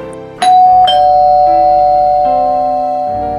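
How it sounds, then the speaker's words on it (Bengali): An electric doorbell (calling bell) is pressed twice, giving two loud bright tones that ring on and fade slowly, heard alone without speech. "লাস্টিক উঠে গিয়ে আবার কলিং বেল টিপল।"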